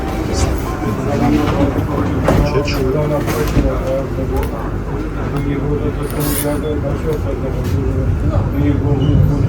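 Steady rumbling ride noise inside a tram in Kraków, with low mechanical hum and occasional rattles, voices talking faintly underneath throughout.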